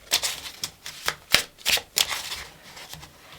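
Tarot and oracle cards being shuffled by hand, with quick papery riffles and soft slaps in irregular bursts, close and fairly quiet, with no talk.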